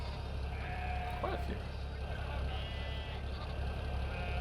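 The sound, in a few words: sheep bleating, from video game Farming Simulator 17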